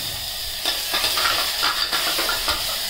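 Onion, ginger and tomato fry in hot oil in a pan on a lowered gas flame, a soft continuous sizzle with occasional stirring scrapes and light spatter, no voices.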